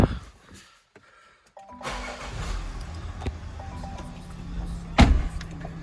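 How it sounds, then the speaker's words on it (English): A Range Rover Velar D300 3.0 diesel R-Dynamic turns over and fires up after a short quiet pause, settling into a steady near idle, with a sharp mechanical click or thump partway through. "Step inside the car and start it up."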